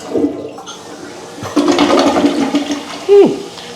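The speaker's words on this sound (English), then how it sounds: "give her a good flush" A hotel bathroom toilet flushes in a Sheraton near Universal Studios, starting with a weak gurgle and building to a strong rushing swirl of water, ending with a brief rising squeal of refilling pipes, close and alone.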